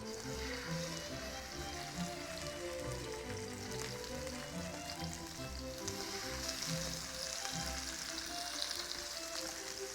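Wild Alaskan salmon pan frying in hot oil: a steady, crackling sizzle that holds evenly throughout, close and fairly soft, with no voices.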